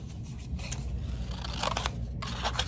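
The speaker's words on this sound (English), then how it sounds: "I'm going to use my scissors here and go right up the lines." Scissors snip through paper plate craft shapes, cutting along drawn lines for a llama's flower-petal legs; a steady run of close crisp crunching and scraping cuts, with no talk.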